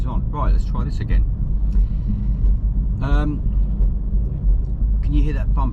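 BMW i3 tyres thumping over jointed concrete on a motorway, heard as low rumbling road noise inside the car with faint repeated bumps, under talk.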